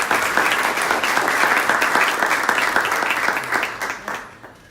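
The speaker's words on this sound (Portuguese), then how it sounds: "Por favor, uma salva de palmas para o João Ferreira Pinto." An audience applauds at a privacy summit in Brazil as the keynote speaker is called up, a dense wash of clapping that holds steady before fading out near the end.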